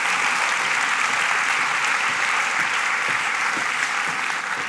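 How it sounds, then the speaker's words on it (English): An audience claps to welcome a guest at a talk event, a loud, steady wash of many hands that holds evenly from start to finish. "May I have a round of applause for Brianne McGonigle Leyh."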